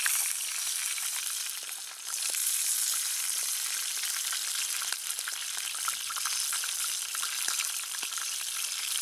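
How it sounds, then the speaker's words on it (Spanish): Guinea pig meat fries over low heat, giving a steady dense sizzle and crackle that runs unbroken and fairly close, with no voices over it. "Queda fuego lento nada más. Ahí está, el cuy va quedando."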